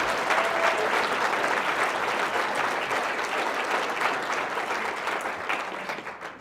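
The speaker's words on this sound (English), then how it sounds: "Please give them a big, big round of applause." Luncheon audience at a Veterans Day event giving a sustained round of applause, dense and steady throughout before fading slightly at the end.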